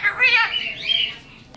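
A pet store mascot cockatoo parrot gives a loud, harsh squawking call lasting about a second, close by and alone, tapering into a short trailing note.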